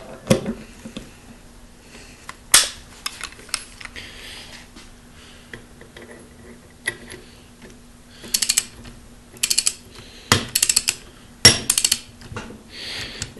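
A torque wrench tightening a fuel injector oil rail on a Ford 6.0L diesel engine, a few sharp metallic clicks and ratcheting bursts in short clusters over faint background hum.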